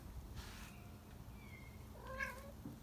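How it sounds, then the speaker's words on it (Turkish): A cat gives a couple of short, faint meows, the clearest one rising near the end, over a quiet indoor background hum with no talking. "Yoksa sen mi miyavlıyorsun?"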